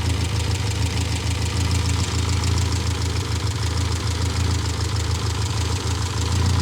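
A 1972 Austin van's engine idles steadily after 30 years off the road, a low, even running rumble with a slight knocking texture, close and continuous with no talk.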